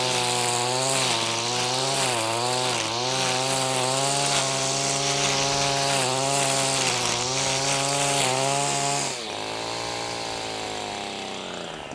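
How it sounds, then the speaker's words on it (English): A STIHL FS 94R string trimmer runs steadily at high revs while trimming light grass. The engine pitch wavers and rises with the throttle, then drops to a lower, quieter drone near the end, close to the microphone with no talking. "I was weed eating around some small stuff, just going around trimming light grass"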